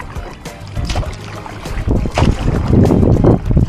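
Gusting wind buffeting a microphone while kayaking out on open water toward an island, rough low rumbling that swells louder toward the end, with faint paddling splashes and no talk.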